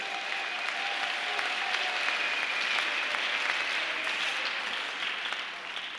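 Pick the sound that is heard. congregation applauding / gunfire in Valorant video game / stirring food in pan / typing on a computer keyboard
congregation applauding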